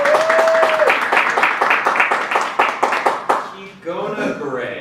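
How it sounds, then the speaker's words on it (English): A church congregation gives a round of applause in a steady, rhythmic beat of about a dozen loud, close claps, and then a voice starts speaking as the clapping ends. "Give a round of applause for Kifra."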